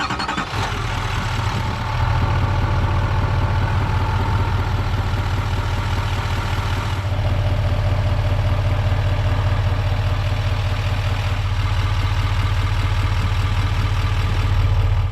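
A 2021 Chevrolet Silverado 2500HD High Country with the 6.6-liter Duramax diesel idles: a steady, loud, deep rumble with a clattering diesel texture, unbroken and close, with no talking over it.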